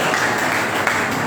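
An audience at a national seminar claps in a dense, continuous burst of applause, loud and sustained through the whole short moment.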